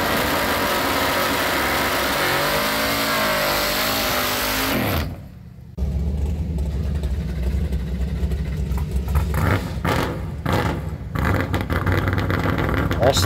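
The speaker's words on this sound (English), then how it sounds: "these are all motor passes for Gramps" A street-legal steel race car engine runs at idle with wavering revs, falls briefly quiet, then roars back as the car makes a motor pass, loud and close throughout.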